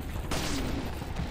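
Gunshot from a pistol in the video game Resident Evil 4: a single sharp, loud burst that cuts in suddenly and rings briefly over a steady game background.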